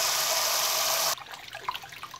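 Starchy rinse water poured off sushi rice in a kitchen, a loud continuous rush of water for about a second that cuts off abruptly into faint dripping and trickling.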